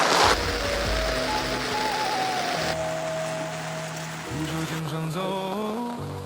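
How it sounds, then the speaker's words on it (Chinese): A heavy rainstorm pours down on an outdoor fishing spot during a wild fishing competition. A dense, steady wash of rain hiss lies under faint tonal hums and whines, with no talking. "这是下暴雨了呀"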